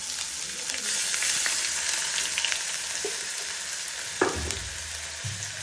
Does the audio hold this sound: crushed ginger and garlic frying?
yes